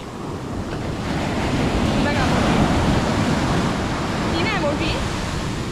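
Ocean waves break on a beach in a steady, loud roar of surf with wind buffeting the microphone throughout, and a few faint voices surface briefly in the background.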